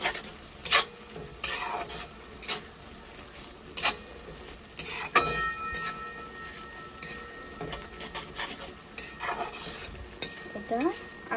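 Maggi noodles with their masala being stirred in a pan: intermittent scraping and tapping of a utensil against the pan over a low background hiss, with irregular bursts of stirring throughout.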